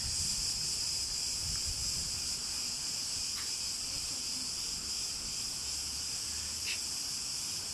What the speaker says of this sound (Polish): jak słychać cykady